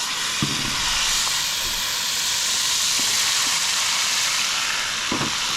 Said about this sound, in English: we saute those for 5 minutes and stir in frequently